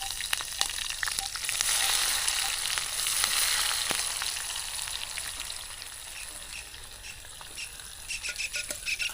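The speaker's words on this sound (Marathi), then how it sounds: "कोळंबीची चालली फ्राय" Prawns fry in a small pan over an outdoor riverside fire, giving a busy crackling sizzle with dense popping spatters that rises, eases off midway, then turns sharper and more clustered at the end.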